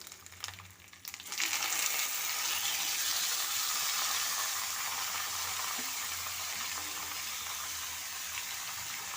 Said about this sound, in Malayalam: ആ സവാള വഴറ്റിയ എണ്ണയിൽ കറിവേപ്പില ഇട്ട് മൂപ്പിച്ച് നമ്മളെ ചിക്കൻ കഷ്ണങ്ങളും ഇട്ട്